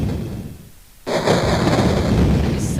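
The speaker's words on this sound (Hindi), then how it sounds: "इतने में यहाँ बादल गरजा।" A thunder sound effect in a Hindi story narration: after a quieter moment, a sudden loud crack opens into a sustained, broad rumbling roar.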